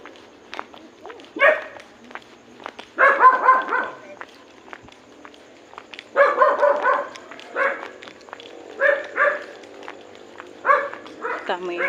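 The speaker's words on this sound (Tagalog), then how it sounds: "Sobrang ingay ng aso." A noisy dog barks in repeated bursts along a walking route home, several loud clustered barks spread across the scene with quieter gaps between them, no talking heard.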